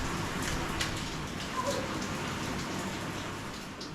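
Steady rain falls outdoors in a soft, continuous hiss with scattered nearby drips tapping a surface, fairly faint and without speech.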